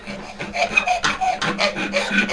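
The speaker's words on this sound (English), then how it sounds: "I actually like the feeling of a clean file to be the last thing that touches the wood on something like this." A clean hand file rasps back and forth across a wooden letter opener in steady, close strokes, each pass a rough scraping rub repeated about every half second.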